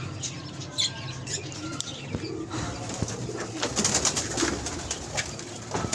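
Pair of barless Archangel pigeons let into a cage, with soft cooing and brief wing flaps over a steady background hum, no talk.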